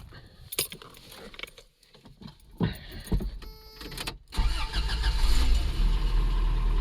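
A Toyota manual truck starts up: keys jingle and clicks come first, then the starter cranks briefly and the engine catches into a steady, fairly quiet idle.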